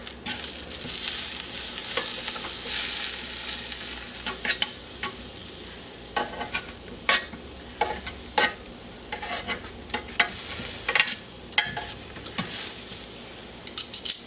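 Vegetables sizzle in a grill pan under a continuous hiss, broken by repeated sharp scrapes and clacks as pieces are turned, close and fairly loud.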